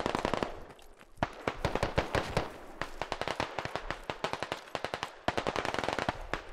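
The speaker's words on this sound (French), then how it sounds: "il y a eu des tirs qui venaient" Rapid automatic gunfire in the military shooter Squad, dense bursts of sharp cracks at close range with short pauses between volleys and more shots from further away.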